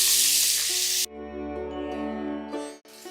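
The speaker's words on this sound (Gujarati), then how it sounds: "અને હવે લીલા લસણની જગ્યા ઉપર આપણે કોથમીરના ડંઠલનો વઘાર લઈએ છીએ." Coriander stalks hit hot oil for a tempering and sizzle loudly with a hiss for about a second, then fade to a softer, steady frying sound.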